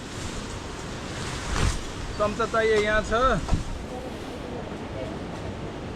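Wind blowing across an outdoor picnic spread, a steady rumbling buffet on the microphone with a heavier gust early on, while a person speaks briefly over it.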